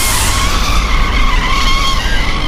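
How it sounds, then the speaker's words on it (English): Truck tires skid hard to a stop on a highway, a loud, continuous screeching squeal with steady engine rumble underneath, close and alone with no voices. "I slammed on the brakes, the truck skidding to a stop in the middle of the highway"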